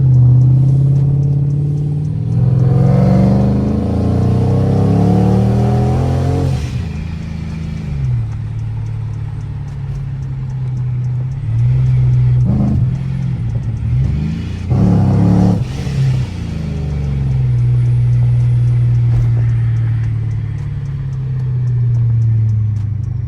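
A supercharged Chrysler 300C engine revs hard and accelerates at night, loud and close, its pitch climbing and briefly dropping between gear shifts before pulling again.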